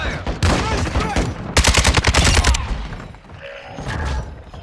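Heavy automatic gunfire in Call of Duty: Modern Warfare II, loud close rapid bursts with a sharp rattling volley in the middle, with game voice chatter around it.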